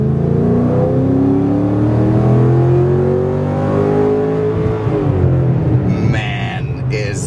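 A 2008 Ford Mustang Bullitt V8 with performance modifications accelerates hard, its loud, deep engine note climbing steadily in pitch before leveling off and easing back.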